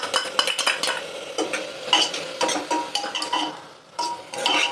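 Carrot pieces tipped into tomato pulp cooking for rajma kurma and stirred, with a steady run of utensil scrapes and clinks against the pan over a soft sizzle.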